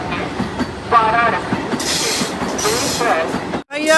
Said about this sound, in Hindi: ये है भारत रेलवे की दुलरवा वंदे भारत एक्सप्रेस।